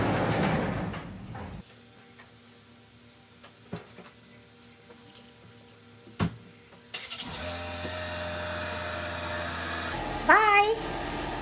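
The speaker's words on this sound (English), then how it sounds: "I'll go get the vacuum." A vacuum cleaner used to clean a 2020 Ford Escape starts partway through after a few quiet knocks and thumps, then runs as a steady, fairly loud whirring roar until the end.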